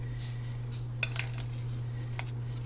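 Metal utensil clinking against a dish while instant potatoes and green onion are mixed, a few light scrapes and taps over a steady low hum.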